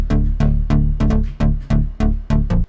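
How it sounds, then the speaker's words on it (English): A mid-range bass synth from Serum's Feed the Mouse preset, dry with no effects, punching out short rhythmic notes with sharp attacks and quick decays, heard alone. "I added a mid-ranged bass. Without effect, sounds like this."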